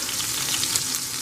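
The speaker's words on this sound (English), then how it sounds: "that grease is popping" Hot grease crackles and pops steadily as a burger patty fries in a pan, a dense, continuous close sizzle with no talking.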